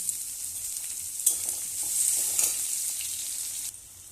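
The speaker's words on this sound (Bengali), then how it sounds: "পেঁয়াজ সব ডাটা একসাথে আমি কষবো" Chopped onions and stalks sauté in a pan with a continuous close sizzle. Stirring scrapes and rustles swell in the middle, and the hiss drops off abruptly near the end, with no voices.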